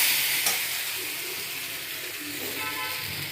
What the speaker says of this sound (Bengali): এবার মাছগুলো দিয়ে দেবো চচ্চড়িতে।